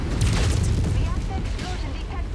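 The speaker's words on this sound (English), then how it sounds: "Reactor explosion detected. Enemy destroyed." A mech's reactor explodes in the video game MechWarrior 5: Mercenaries, a loud, dense rumbling boom that fills the moment without a clear break.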